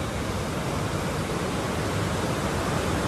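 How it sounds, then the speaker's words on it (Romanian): A waterfall gives a loud, unbroken roar of rushing water that fills the whole stretch evenly and never lets up. "Am să vă arăt această cascadă. Priviți! Priviți cât de frumos curge această apă."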